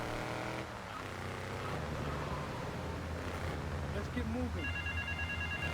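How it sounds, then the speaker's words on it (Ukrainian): A telephone rings in Grand Theft Auto III over steady traffic and engine noise from the game, with a repeated electronic ring tone that gets clearer near the end while someone talks. "він знов телефонує"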